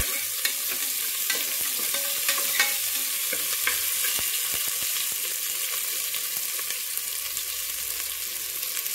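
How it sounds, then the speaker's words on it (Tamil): Small onions sautéing in a pan for a Kovai-style rice and lentil dish, a steady close sizzle and crackle with occasional spoon scrapes and stirring clinks throughout, no talking. "ஒரு நிமிஷம் வெங்காயம் வதங்கட்டும்."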